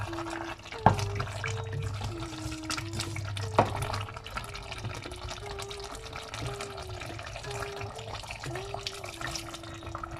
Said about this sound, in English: I will wash the pan with a little bit of hot water.